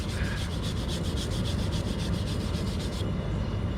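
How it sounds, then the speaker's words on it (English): Steady back-and-forth rubbing on a metal anvil being cleaned of wax residue, a rhythmic scrubbing of about a dozen even strokes that stops abruptly near the end, close and alone. "Clean my anvil off a little bit."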